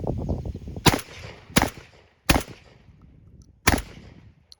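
A JTS AK12 M12AK-T1 semi-automatic shotgun fires four loud, sharp shots at irregular intervals, each a close boom with a short echoing tail, and low rumble between shots.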